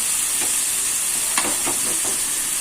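Mashed potato stirred into hot oil with tomato sizzles steadily at close range, with several soft scraping stirs of a spatula against the pan breaking through the hiss.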